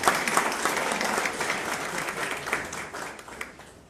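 A church congregation applauds during a sermon, a full, even burst of clapping from many people that holds steady, then thins and fades slightly toward the end.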